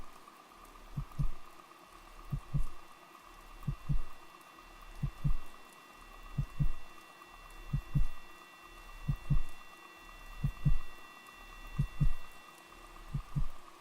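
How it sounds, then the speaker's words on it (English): A heartbeat in the video game The Music Machine, deep paired thumps repeating at a slow, even pace about every second and a half, loud and alone over a quiet steady hum. "Why is there a heartbeat?"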